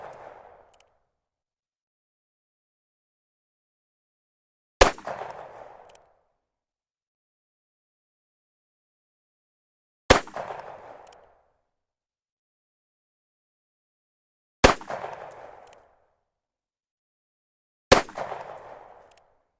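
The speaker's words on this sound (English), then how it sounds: "Gotta try 100 yards with revolver." Ruger New Model Vaquero revolver shots in 45 Colt crack out four times, loud and sharp, at slow irregular intervals of several seconds, each one dying into a short outdoor echo before silence.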